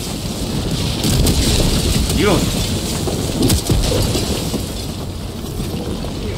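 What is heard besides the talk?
meteor storm impacts in the video game Helldivers 2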